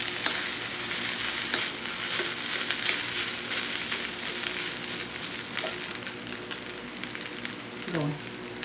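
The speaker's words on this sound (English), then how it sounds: "So we're going to keep on going, tossing that rice around, letting everything blend together." Shrimp fried rice sizzles steadily in a hot skillet, with scraping and tossing noises from stirring throughout, the sizzle loud and close.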